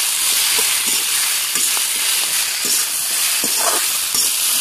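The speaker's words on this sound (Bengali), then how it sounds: "পালং শাকগুলো ভালোভাবে লাইটে মেশান দেবো।" Spinach tossed in with potatoes already fried red keeps sizzling in hot oil, a steady loud hiss broken by soft scrapes and knocks as it is stirred through the pan, with no talking.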